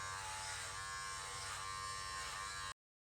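Electric hair clippers fitted with a guard buzz steadily and close up while shaving the head during a DIY fade haircut, a continuous droning hum that stops abruptly near the end.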